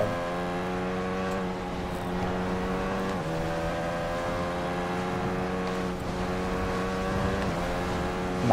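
Motorbike engine in the TT Isle of Man Ride on the Edge 2 racing game, roaring steadily and loudly at high revs, with pitch shifts as it passes close along a wall.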